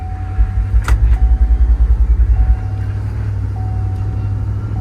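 A 2009 Chevy Suburban on a test drive: steady low engine and road rumble with a pulsing throb in the first half, then a smoother, even drone, close and fairly loud, with no talk.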